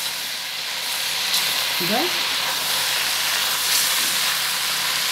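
Vegetables tipped into a hot pot of browned meat and onion for an Egyptian turly stew give a steady, close sizzling hiss throughout, with a brief clatter of stirring and someone speaking softly over it.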